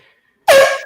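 A single loud air horn sound effect blasts abruptly after near silence, a bright brassy honk sustained for about half a second and fading slightly.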